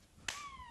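A single sharp hand clap in a television studio, close and brief, followed by a fading tonal ringing.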